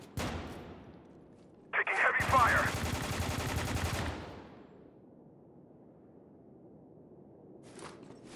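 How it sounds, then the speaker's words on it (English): Heavy automatic gunfire erupts in the shooter game Spec Ops: The Line, a dense loud burst of rapid shots lasting about two seconds before fading into quieter background ambience. "Taking heavy fire."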